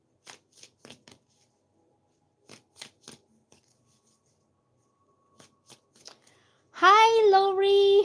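A new deck of tarot cards is shuffled in short, crisp bursts of riffling separated by pauses, close and fairly quiet, then a voice starts speaking at the end.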